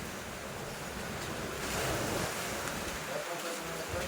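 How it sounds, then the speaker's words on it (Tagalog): Strong ocean waves surge at night near an island shore during a low-pressure storm, a continuous roaring wash of surf with gusting wind swelling midway, loud and close throughout. "malakas ang alon"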